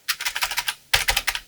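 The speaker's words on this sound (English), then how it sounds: "you can hammer those keys in frustration now" Rapid clacking keystrokes on a Commodore 64c computer keyboard being restored, two quick bursts of close, crisp typing separated by a brief pause.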